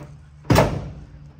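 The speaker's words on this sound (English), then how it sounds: "So you open the door," A door swings open with a single sharp thunk and latch noise, followed by a short fading rattle against a quiet background hum.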